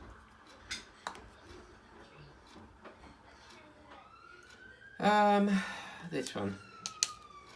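A siren from a nearby road rises and sweeps faintly in the background, with a louder burst of close sound midway and a voice speaking briefly over it.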